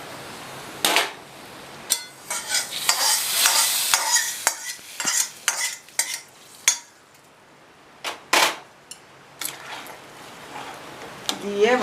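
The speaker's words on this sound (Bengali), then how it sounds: "দিয়ে ভালো করে আমি নাড়িয়ে নিচ্ছি" Fried vermicelli is stirred into milk in a pot for payesh, with a spoon scraping and clinking against the metal in irregular strokes, close and clear, under a soft sizzle.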